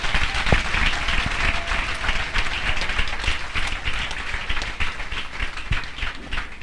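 A church congregation applauds during a French-language worship service, loud and dense, with continuous clapping from many hands that fills the room for several seconds.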